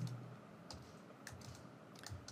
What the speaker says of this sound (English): I'm typing the message as hello team